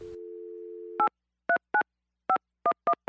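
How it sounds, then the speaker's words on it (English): A steady telephone dial tone cuts off, then a sequence of seven short keypad dialing beeps plays in an uneven rhythm, clear and close with no voices. "here's his latest voicemail message"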